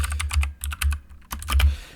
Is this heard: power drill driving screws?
no